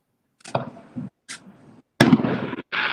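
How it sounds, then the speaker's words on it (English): Fireworks go off outside a house in Arizona, a string of sharp pops and crackling bursts separated by brief gaps, the last ones louder and nearer, with no voices. "when I was on your phone texting Candy, you didn't hear all the loud ass fireworks."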